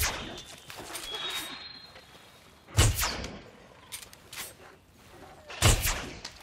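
Gunshots in the video game Jurassic World Evolution, two sharp loud reports a few seconds apart over a quiet game background with faint tonal sounds.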